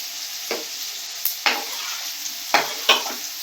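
Spices tempering in hot oil for an amla pickle, with a few brief sizzling bursts and stirring scrapes spread across a quiet, steady background.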